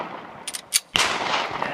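Taurus Millennium G2 PT111 9mm pistols firing, with a few sharp clicks and then a loud, close blast followed by a lingering echo.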